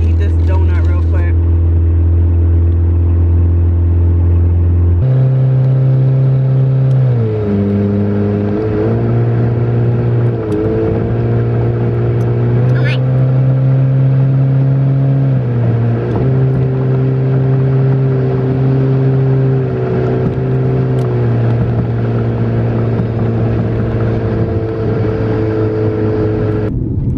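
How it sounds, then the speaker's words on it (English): A loud, steady engine hum with a deep drone from inside a car on the freeway, the pitch shifting slightly as it cruises. "I'm on the freeway, so I bet my car is about to get like really loud"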